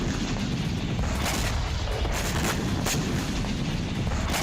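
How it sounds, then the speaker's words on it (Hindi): Russian missile strikes and explosions hitting the port city of Odesa from the Black Sea: a dense, continuous barrage of booms and blasts with repeated sharp impacts, loud and sustained throughout. "यूक्रेन की पोर्ट सिटी में रूस ने ब्लैक सी से एक के बाद एक कई मिसाइलें दागी।"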